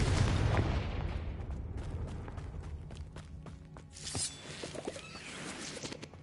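A Confringo fire spell in the video game Hogwarts Legacy bursts with a loud booming blast at the start, then decays into crackling, rumbling debris and scattered small pops.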